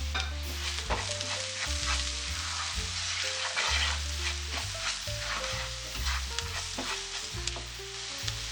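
Green chilies, salt and black pepper sizzle in a pan for butter garlic chicken, a continuous dense hiss with crackling bursts and a steady low hum underneath, close and moderately loud.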